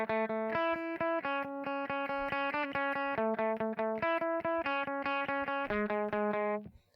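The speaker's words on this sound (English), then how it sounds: "there's a lead guitar part that comes in that sounds kind of like this" Electric lead guitar with distortion and effects plays the lead line from a song, with steady, evenly picked notes in a repeating pattern, loud and close, ringing alone without talk.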